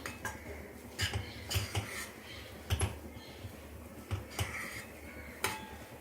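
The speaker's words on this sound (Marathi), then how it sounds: "आता हे 5 मिनिटं छान परतूया" A spoon scrapes and clinks in a pan while ground peanuts, coconut and sesame are sautéed, with repeated soft metallic taps over a faint background hiss.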